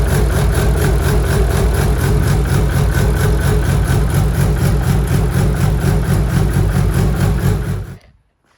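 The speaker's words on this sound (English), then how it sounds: "That's what we want to hear. The rotational idle happening." Nissan R33 drift car engine idling steadily with a low, throbbing rumble and a slightly lumpy rhythm, loud and close, cutting off abruptly near the end.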